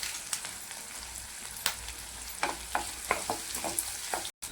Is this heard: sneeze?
no